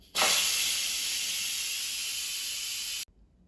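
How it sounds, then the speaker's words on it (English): A loud, steady hiss of steam from an Instant Pot pressure cooker's quick release bursts out suddenly and holds for about three seconds, then cuts off abruptly into quiet. "let's quick release the steam"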